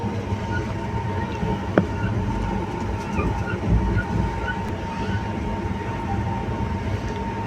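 A passenger train near Abu Road station in India rolls steadily past with its general-class coaches, a continuous close rumble with faint clattering and a couple of brief metallic knocks, no speech over it.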